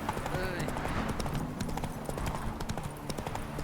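Horse hooves trotting in The Witcher 3 give a steady clip-clop beneath continuous talking and game ambience, moderately loud throughout.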